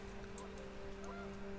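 Goose honks from panicked geese in the game What Remains of Edith Finch, a few short, faint calls over a steady low hum and background noise.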